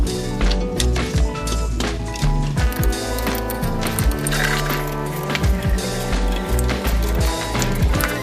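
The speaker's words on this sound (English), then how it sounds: "First thing we gotta do is break all these bolts loose." Hand ratchet clicking steadily while breaking loose the bolts on a differential cover, a dense run of close, loud metallic ticks that continues without pause, with no talking.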